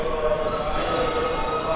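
Steady rumble of a New York City subway train in motion, a continuous broadband roar with faint tonal whine, heard from inside the car with no talking.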